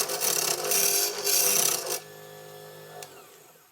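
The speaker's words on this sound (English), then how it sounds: "While I can round out the blanks using a roughing gouge" Roughing gouge rounding a wood blank for an ice cream scoop handle on a NOVA Comet II lathe, a loud, close, rough rasping cut in two bursts that stops, leaving the lathe's steady hum.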